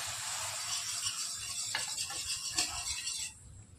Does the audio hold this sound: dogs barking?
no